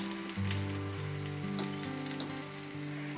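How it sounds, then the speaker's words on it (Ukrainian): Steady sizzling of battered zucchini frying in hot oil, a continuous crackling hiss with a low hum in the background and no talking. "І так смажимо, поки не висмажимо всі наші кабачки"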